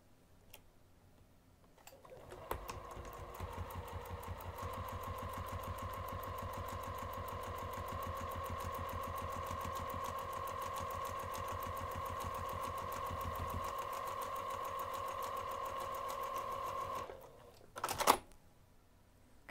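Sewing machine stitching the top closed on a fabric craft bag, half an inch from the edge: one continuous, steady run of rapid needle ticking with a motor hum, close and fairly quiet, ending in a short clunk.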